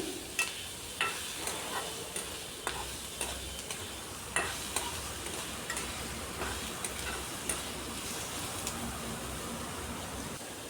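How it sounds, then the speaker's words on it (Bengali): Onion and garlic with a little salt fry in a pan, giving a faint steady sizzle broken by regular light ticks and scrapes of a spatula stirring. "লবণটা দিয়ে পেঁয়াজ আর রসুনটাকে আর একটু লাল লাল করে ভাজা ভাজা করে নিচ্ছি।"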